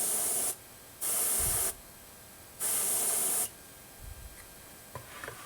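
Pearlescent red paint sprays onto the chin of a handmade deep-diving crankbait lure in two short, loud airbrush hisses about a second long, separated by quiet pauses and followed by faint handling noises.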